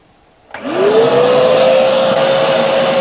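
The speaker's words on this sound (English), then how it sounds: "So if I switch the vacuum cleaner" A vacuum cleaner hooked to the vacuum port at the bottom of a cylinder switches on after a short quiet spell. Its motor spins up into a loud, steady whine that rises in pitch and then holds constant.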